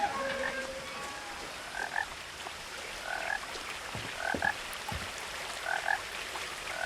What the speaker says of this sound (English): there are a lot of video games when you hear a frog but you don't see the frog.